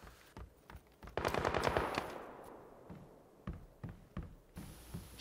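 Automatic gunfire in the video game PUBG on Xbox One, a rapid burst of shots followed by scattered single and double reports, fairly loud, with faint background between.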